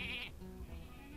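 A sheep bleat from the polymorph spell in the Hearthstone card game: one short, bright, wavering bleat at the start, followed by low game background sound.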